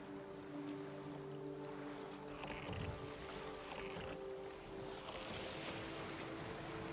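A sailing boat glides over water in The Witcher 3: Wild Hunt – Blood and Wine, a steady faint wash of waves and wind with a low droning hum underneath and no talking.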